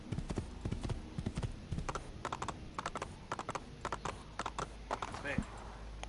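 A white horse's hooves clip-clop in a quick steady rhythm in the video game Assassin's Creed 2, close and clear against faint background ambience.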